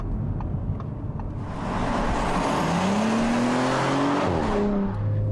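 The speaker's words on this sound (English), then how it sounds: "You can feel it and hear it when you step on the gas." An Audi S4 engine revs up under acceleration, a loud, rising mechanical roar heard from inside the car whose pitch climbs and shifts as gears change, then settles, with no talk.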